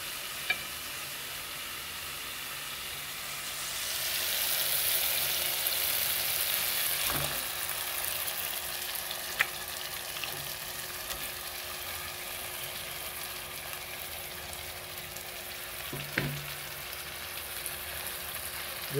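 Sardines in tomato puree cook in a frying pan, giving a soft, steady sizzle with occasional stirring clanks and scrapes; no one speaks.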